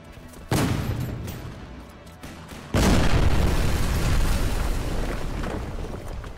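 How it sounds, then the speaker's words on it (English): Explosions from the Kaiserpunk grand strategy game hit in two heavy bursts, the second bigger, each leaving a long rumbling roar that lingers and slowly fades. "Big boom."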